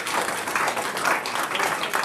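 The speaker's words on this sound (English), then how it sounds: "A big round of applause for our 30 years." A crowd at a school district board meeting claps in a brief burst of dense, even applause from many hands, heard nearby.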